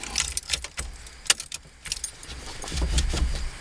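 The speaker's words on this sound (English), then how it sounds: "Test to make sure that that unlocks when I turn the key." Key jangling and clicking as the ignition key of a 1990 Jeep Cherokee turns to release the steering lock, a few sharp metallic clicks over faint background rumble, near and fairly quiet.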